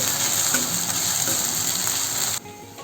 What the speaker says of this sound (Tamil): பச்சை வாசனை போகிற வரை இதை நல்லா வதக்கி விட்டுக்கலாம்.